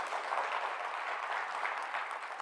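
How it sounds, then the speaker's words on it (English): Applause from a conference audience for a panel, a steady, dense clapping wash that holds evenly for the whole stretch, moderately distant and without voices. "Let's please give this panel a big round of applause"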